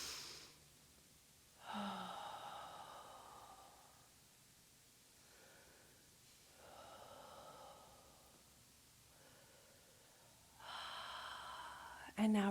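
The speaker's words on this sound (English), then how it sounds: "taking a few deep breaths" Slow deep breaths during a guided group standing exercise, several audible inhales and exhales spaced a few seconds apart, soft and close with faint room noise.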